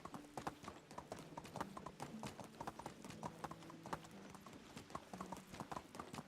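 Horse hooves clip-clop in a brisk, even rhythm in Medieval Dynasty, close and clear over soft game music, with no talk.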